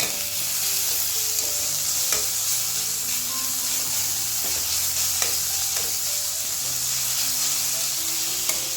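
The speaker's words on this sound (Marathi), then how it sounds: "आता याच्यात टोमॅटो घालू तो पण चांगला परतून घेऊ" Chopped tomato and onion frying in a pan, a steady loud sizzle close up with occasional stirring scrapes and clicks throughout, no talk.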